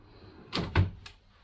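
Cabin drawers aboard a cruise ship slide open and shut in a quick, close sequence of two or three short wooden knocks and thuds.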